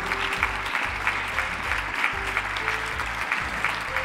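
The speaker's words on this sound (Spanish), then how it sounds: "Por favor, un aplauso para los dos, como digo, autores del cartel." An indoor crowd claps steadily and densely for the two creators of the Moors and Christians festival poster, with continuous applause and no speech over it.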